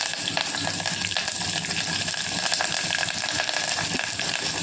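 Curry leaves sizzle and crackle steadily in hot oil for a tadka tempering, a dense continuous frying hiss with small pops throughout, loud and close with no talking.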